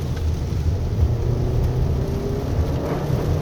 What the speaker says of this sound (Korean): 지금 스포츠 모드에서 이 코너 진입한 다음에 엑셀을 밟으니까요